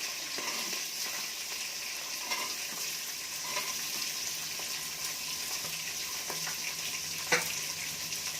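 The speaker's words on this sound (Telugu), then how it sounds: "అన్నీ వేసి ఒకసారి బాగా కలిపేసి" Onions stirred and frying in a pan over high flame, a steady sizzle with repeated scraping and knocking of the spoon against the pan, moderately quiet and without voices.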